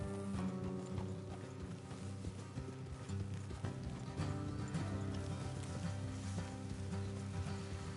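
Horses clip-clop steadily along a road in the video game Red Dead Redemption II, mixed with a layered game soundscape of music and ambience at a moderate level.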